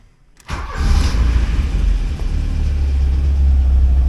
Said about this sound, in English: I'm gonna go and maybe start the motor and see how the power brakes work